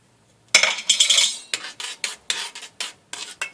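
Spoon scraping and stirring in a pot of simmering marinara sauce as parsley goes in, a run of rhythmic metallic scrapes and clinks close up, with no talk.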